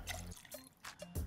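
Ginger liqueur poured from a jigger into a cocktail glass, a brief close trickle and splash of liquid with small drips over a quiet room.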